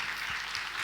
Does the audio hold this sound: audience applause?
yes